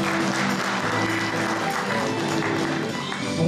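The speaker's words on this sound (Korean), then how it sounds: "박수 뜨거운 박수로 맞아주십시오." An audience at a year-end gathering and book-launch forum in Korea applauds steadily and warmly to welcome a guest, a dense continuous wash of many hands with a faint hum of room noise underneath.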